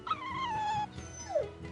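Dog on a ship in Tales of Berseria: a couple of short whining yelps with a drawn-out, falling whimper between them, fairly close over quiet background.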